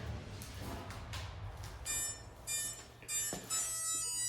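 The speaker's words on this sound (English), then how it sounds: "You can hear the beeping." A beetleweight combat robot gives electronic beeps in a few short bursts, tonal and steady, over a low mechanical hum, each pulse lasting about half a second.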